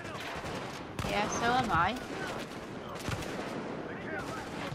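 Gunfire crackles in Tom Clancy's The Division, rapid bursts of shots over a busy game soundscape, with someone speaking briefly between volleys.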